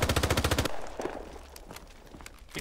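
A loud, rapid burst of automatic fire rattles out at close range in a gritty multiplayer shooter, then cuts off into a quieter stretch of faint distant shots and movement.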